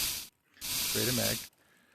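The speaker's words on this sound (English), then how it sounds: "So let's go spray the mag." Two bursts of spray cleaner misted onto a gun magazine in the VR game Into the Radius, each a loud broadband hiss, the first short and the second longer, then near silence.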